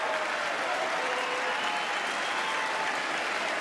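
Audience applauding during the State of the Union address, a steady, dense roll of clapping from a large crowd, evenly loud and unbroken with no speech over it.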